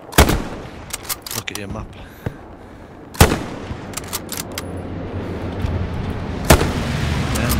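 Artillery shells land during a battle in the World War II video game Hell Let Loose, three big booms spaced seconds apart among scattered distant gunshots, while someone talks over the rumble.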